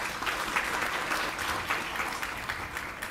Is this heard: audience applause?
yes